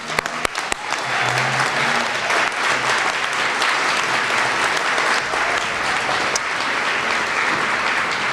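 A room full of people gives a steady round of applause for the judges at the 2018 BBB Eclipse Integrity Awards, a few scattered claps at first building quickly into loud, continuous, even clapping that carries on for several seconds.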